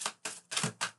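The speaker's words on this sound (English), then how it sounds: "I have to keep shuffling, Inkpot, okay?" A deck of playing cards is shuffled in four quick, close riffling bursts with an even rhythm. No voices come through during the shuffle.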